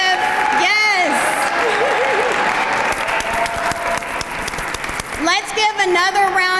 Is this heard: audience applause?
yes